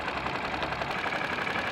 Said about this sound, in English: now the engine is warm